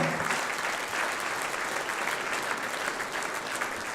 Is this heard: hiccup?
no